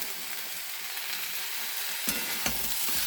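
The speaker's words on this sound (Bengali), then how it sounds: "এদিকে সবজি দিয়ে এগুলো ভাজা করছি। এবার মটরশুঁটিগুলো দিয়ে দেবো" Vegetables and green peas fry in a pan with a steady, close sizzle, with a couple of sharp scrapes and clatters as they are stirred.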